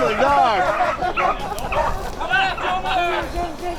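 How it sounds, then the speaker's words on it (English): A pack of beagles on a rabbit hunt bay and yelp in overlapping, excited bursts, loud and close, with people talking in the background. "Right now I've got 8 beagles"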